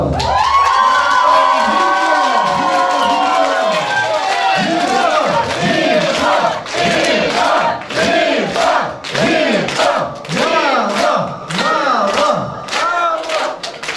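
A crowd at a Ukrainian wedding celebration cheers and applauds, with loud overlapping shouts and whoops over steady clapping that continues throughout and grows more rhythmic toward the end.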